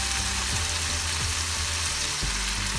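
Tomato and slit green chili hit hot oil in a pan for a Bengali mourala fish jhal, giving a steady, loud, close sizzle with a few soft stirring knocks and no voices.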